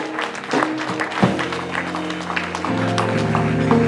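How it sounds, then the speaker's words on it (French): A church vigil congregation applauds in a brief burst of clapping, close and moderately loud, mixed with tonal music or voices underneath. "Acclamons une fois de plus encore."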